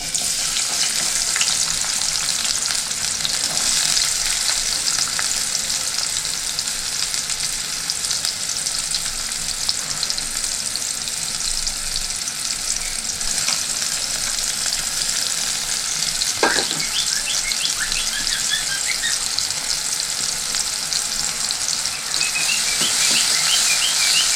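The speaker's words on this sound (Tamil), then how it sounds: "இப்போ எண்ணெய் காஞ்சிச்சு இப்போது பொடியாக நறுக்கினா வெங்காயத்தை போடுறோம்" Steady, loud sizzling of finely chopped onions frying in hot oil for a mushroom pepper masala, a continuous crackling hiss with occasional stirring noises and no talking.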